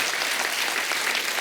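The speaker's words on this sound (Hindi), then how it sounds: "तो जोरदार तालियां हो जाएं आज।" Studio audience of a Hindi comedy talk show claps loudly and steadily, a thick, even burst of applause with no talk over it.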